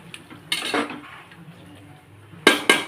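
A spoon stirs a ground paste of coriander, mint and tomato in a pan for chicken biryani, giving a few close metallic scrapes and clinks: one burst early on, then a quick run of three near the end.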